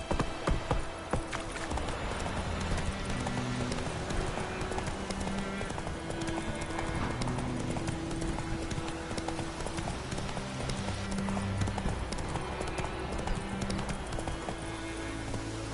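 A horse gallops in The Witcher video game, with rapid, rhythmic hoofbeats running steadily through the whole stretch under a layer of music-like tones, fairly close and continuous.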